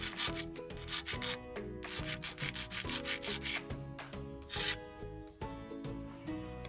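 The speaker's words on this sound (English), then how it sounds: "rounded off the sharp edges with a metal file" Metal file scraping back and forth along the sharp edges of a thin metal strip in a workshop, close, quick gritty rasping strokes in uneven bursts.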